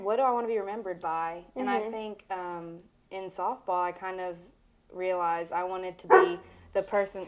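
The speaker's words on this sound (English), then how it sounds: "That's my dog" A pet dog gives a string of barks and yips in short bursts close by, mixed in with a person talking indoors.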